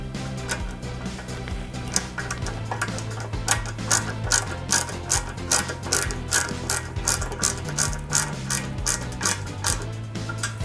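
A small screwdriver drives screws into a Ford Gran Torino model kit, giving a long run of quick ratcheting clicks in uneven bursts, close and fairly loud, with no talking.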